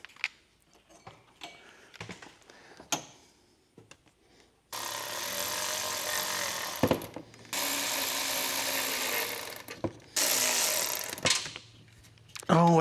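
Socket ratchet tightening a bolt on a Ford ABS brake module, with a few short clicks early on, then long loud bursts of continuous mechanical whirring, close and alone.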